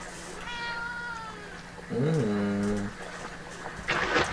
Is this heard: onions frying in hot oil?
no